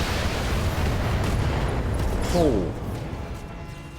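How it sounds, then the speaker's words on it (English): SRM ammunition explodes inside a mech in the BattleTech video game, a loud, rumbling blast that swells and fades, while a man briefly exclaims partway through. "SRM ammo explosion."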